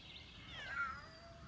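A porch cat gives a single faint, drawn-out meow that rises and falls, heard from a short distance over quiet outdoor background.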